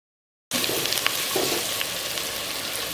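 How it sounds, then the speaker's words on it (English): Onions frying in a pan with curry leaves and pandan for a Sri Lankan fish curry, a loud continuous sizzle that starts abruptly and keeps crackling steadily. "once the onions have started to fry and they are about to be light golden brown"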